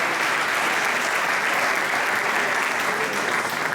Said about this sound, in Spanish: damos un aplauso de bienvenida a Raquel y a Dani